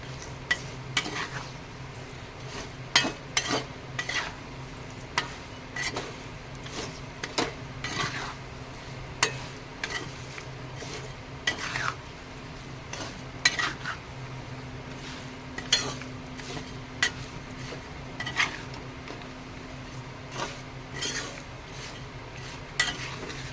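Beef pickle masala is stirred in a pan, with frequent sharp scrapes and clinks of a spoon against metal over a low, faint sizzle, close and irregular throughout.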